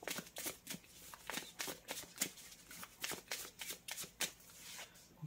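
Tarot cards being shuffled by hand in a quiet room, a steady run of close, crisp riffling and slapping bursts at an uneven rhythm, no voices.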